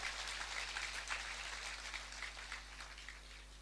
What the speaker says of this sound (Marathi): टाळ्या वाजून त्यांचं अभिनंदन करा